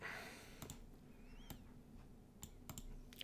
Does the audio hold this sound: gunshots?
no